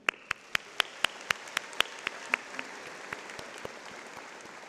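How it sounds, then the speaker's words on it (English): At an engineering commencement ceremony, a round of applause for supporters comes through as a sparse sequence of sharp, separate claps, fairly regular, fading and thinning over a few seconds. "Let's first give a big round of applause to everyone that has supported us in reaching this milestone"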